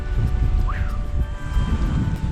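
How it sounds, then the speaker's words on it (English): Strong wind buffets the microphone in low, rumbling gusts, with a faint tonal whistle briefly rising above the roar. "The wind is just ferocious."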